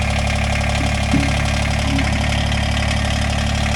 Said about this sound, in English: Same engine as my light plant by the sounds of it.